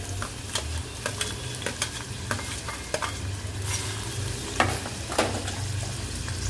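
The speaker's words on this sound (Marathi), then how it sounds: "आता आपलं हे तापायला लागले तेल, ह्याच्यामध्ये मी कांदा टाकते" Two finely chopped onions dropped into heated oil in a pan, frying with a steady sizzle and crackle while a spatula scrapes and taps against the pan in frequent stirring strokes.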